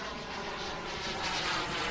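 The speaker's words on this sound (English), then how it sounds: "You see now we're going to slow the plane right down." An RC model jet aircraft engine throttles down as the plane slows in flight, a steady turbine-like rush heard from a distance, moderately faint and even across a brief moment.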